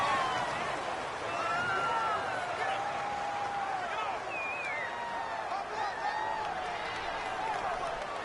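A stadium crowd roars steadily through a Madden 19 simulation of the Tampa Bay Buccaneers versus the Atlanta Falcons. The dense, continuous home-field din carries whistle-like cheers rising and falling over it.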